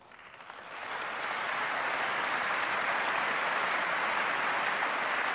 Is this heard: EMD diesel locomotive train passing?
no